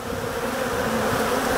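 Dense, steady buzzing of Africanized honey bees clustered on a queen cage inside the hive, a close, continuous drone with no pauses.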